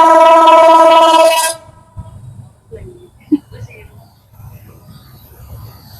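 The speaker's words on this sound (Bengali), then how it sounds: "শান্তনগর ট্রেন এটি।" A loud, close train horn blasts steadily for about a second and a half as the Shantanagar train passes a level crossing in Akkelpur, Joypurhat, followed by a low rolling rumble of wheels on the rails.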